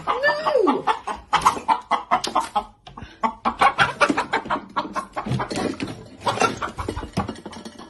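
A chicken clucks in a rapid, close series of sharp bursts, opening with a squawk-like call, loud and busy over about eight seconds, with no talking.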